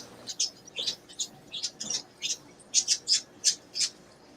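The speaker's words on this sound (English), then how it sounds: "Sounds like those birds are having an altercation." Birds squawk in a quick series of sharp, harsh calls, back and forth, growing louder and more insistent toward the end.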